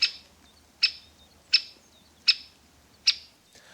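Five sharp, loud great spotted woodpecker calls repeated at a steady pace, each a short harsh note, with a quiet background between them.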